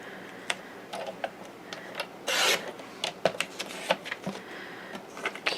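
Calendar paper strips are trimmed on a paper trimmer, a run of close, sharp clicks and short rasping slides, with one longer scraping cut near the middle, no talking.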